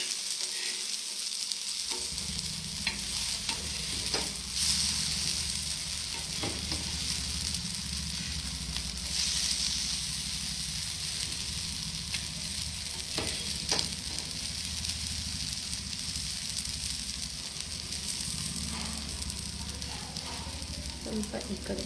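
Cutlets fry steadily in oil in a pan, giving a continuous close sizzle with scattered crackles and occasional scraping stirs throughout, and no one talks.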